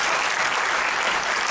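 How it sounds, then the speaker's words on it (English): An audience at a leadership lecture breaks into applause, loud, dense clapping from many hands that runs steadily through the short stretch without any speech. "Round of applause."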